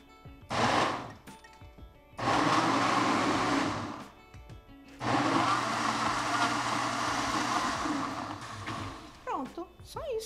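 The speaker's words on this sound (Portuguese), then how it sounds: "Liquidificador" A kitchen blender whirs through eggs, oil and sweetener in several loud bursts: a short run, then a longer one, then a long steady blend, with brief pauses between them and a clink at the end.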